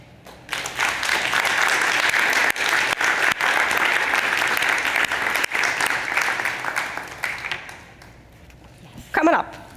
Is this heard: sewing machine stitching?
no